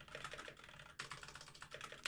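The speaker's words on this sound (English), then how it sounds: "helps if I type properly" Quick, uneven clatter of fingers typing on a computer keyboard, close and fairly quiet, with a short pause near the middle before the keystrokes resume.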